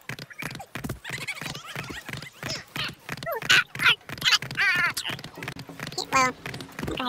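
A horse gallops in Assassin's Creed III, rhythmic hoofbeats running steadily throughout with whinnies and squeals rising above, while someone talks over the game sounds.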